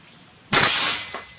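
An FX Crown 500cc air rifle fires a pin-head dart in one sharp, loud crack, followed by a brief rushing tail that fades over about a second.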